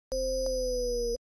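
A Serum synth bass note with downsample distortion adding bright upper harmonics, held steady for about a second with a brief retrigger near the start, loud and alone before stopping abruptly.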